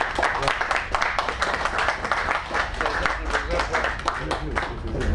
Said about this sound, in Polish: Serdecznie podziękujmy księdzu oklaskami.